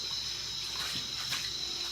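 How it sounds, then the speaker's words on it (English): Steady running water from a tap splashes continuously while an Eheim canister filter sponge is rinsed and squeezed in a wash tub, with a soft, even hiss and faint sloshing throughout and no voices. "I'm going to give it a couple of squeezes, some rinses"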